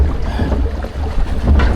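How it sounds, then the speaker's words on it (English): Six Flags Great Adventure log flume boat bouncing through the water channel: loud, continuous rushing and sloshing water mixed with heavy wind buffeting on the microphone, with no speech. "All right, we're on the log flume, bouncing around."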